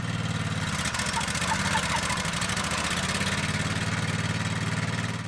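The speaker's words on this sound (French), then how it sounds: "Laissez tourner le moteur 2 minutes." A thermal (petrol) wood chipper engine idles steadily after being started, a constant close mechanical drone with a rapid regular firing pulse throughout, and no speech.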